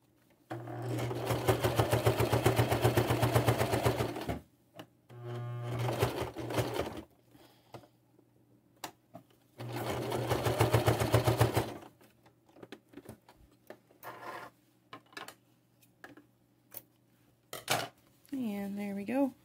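A sewing machine straight-stitching leg elastic onto a Grovia Hybrid diaper runs in three steady bursts, a fast even buzzing whir, with quiet handling clicks and a voice between runs.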